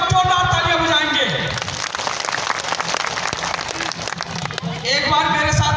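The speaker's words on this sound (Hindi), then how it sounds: "मिलकर एक बार जोरदार तालियां बजाएंगे।" A crowd at a rally and sit-in protest in Chatra over the 2006 Forest Rights Act breaks into loud sustained clapping that fills most of the moment, with an amplified voice speaking before and after it.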